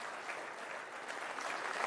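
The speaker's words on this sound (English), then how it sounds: "A warm round of applause" An audience applauding a doctor before a talk, a short burst of steady, dense clapping from a room full of people, fairly close and growing slightly toward the end.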